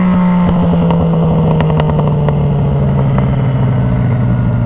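A Yamaha FZ-09 motorcycle engine revs loud and close, its exhaust crackling with a quick run of sharp pops over a steady low rumble.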